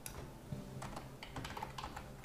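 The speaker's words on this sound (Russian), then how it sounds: "Для этого мы пишем в адресной строке" Quick, irregular keystrokes clatter on a computer keyboard while a web address is entered into a browser on a PC, close and fairly quiet with no talking.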